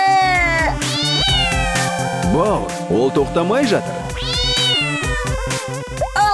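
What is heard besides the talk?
cat meowing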